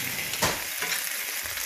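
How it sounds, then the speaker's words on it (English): Fiddleheads frying in butter in a pan give off a steady, loud, close sizzle and hiss, with a brief surge of crackling partway through. "That's the sound of Fiddlehead frying."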